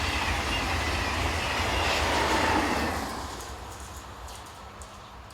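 French TGV high-speed train rushing past, a loud broad roar of wheels and air that holds steady, then fades over the last couple of seconds.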